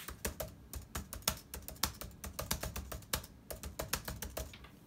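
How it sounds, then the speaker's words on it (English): Loud, clacky laptop keyboard typing in quick irregular bursts of sharp keystrokes, close up, with no talking. "Hear how loud that is? And that's just regular typing."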